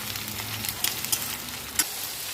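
Ginger garlic paste, tomato and green chilli frying in a pan with onions, giving a soft steady sizzle with a few brief spatters and light stirring sounds, no talk.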